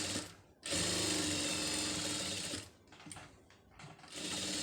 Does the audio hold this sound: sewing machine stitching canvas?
yes